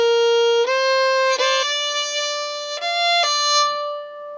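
A fiddle plays the closing phrase of the old-time tune Kitchen Girl, with the pinky adding a unison on the last notes: a short run of clear, sustained bowed notes changing pitch stepwise, played alone and up close.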